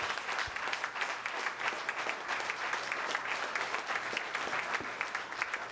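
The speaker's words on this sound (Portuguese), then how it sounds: "Vamos aplaudir ao Senhor em nome de Jesus." A church congregation applauds in praise, a sustained, moderately distant patter of many hands with faint crisp individual claps standing out.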